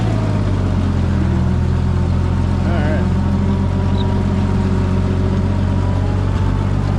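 A tractor engine running in gear during corn planting, a loud steady low drone that fills the whole span, with faint voices beneath it.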